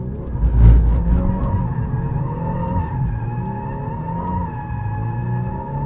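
Tires on a 2023 Volkswagen Golf R in drift mode with stability control off squeal and skid in a loud, sustained screech over the engine's steady drone, with a strong surge near the start; there is no talking.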